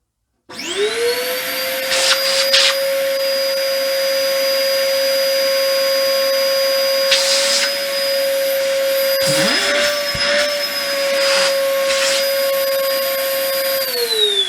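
Small-workshop dust extractor switching on and running with a steady loud whine and rushing suction, pitch rising at startup and wavering briefly mid-run, with a few bumps and knocks before it spins down at the end.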